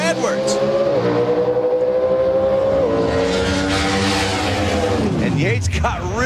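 A Pro Stock drag race car launches at the 2005 Gatornationals with a loud, sustained engine roar that climbs in pitch through the gears, then drops away as the car pulls off down the strip.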